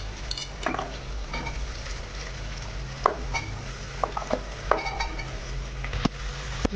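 Chopped vegetables for an aloo matar veg pulao are stirred in a pan, giving soft sizzling with repeated sharp clinks and scrapes of a spoon against the metal, close and moderately quiet.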